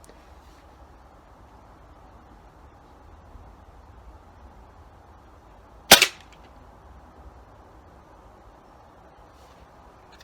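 A single rifle shot cracks out sharply at mid-distance, loud and abrupt, standing alone against a quiet outdoor background of faint steady noise, with a brief tail after the report.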